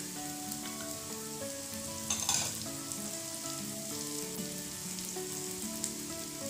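Lemongrass dropped into a hot frying pan for nasi goreng liwet, giving a steady close sizzle and frying crackle throughout, with a brief louder burst of spitting partway through; no voices.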